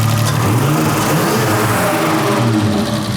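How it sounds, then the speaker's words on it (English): Up close, a 2 litre car engine revs with valve tick, a loud sustained roar with a rough, busy texture and slight pitch shifts throughout. "It's got a lot of valve tick."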